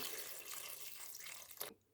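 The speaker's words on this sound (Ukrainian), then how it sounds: "Тепер потрібно залити це водою" Water poured from a tap over stewing pork in a pan, a steady close splashing rush that stops abruptly near the end, quiet and alone without talk.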